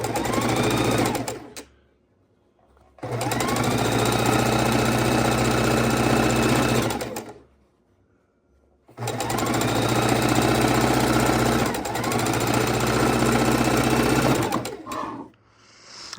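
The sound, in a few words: sewing machine stitching fabric scraps for a quilt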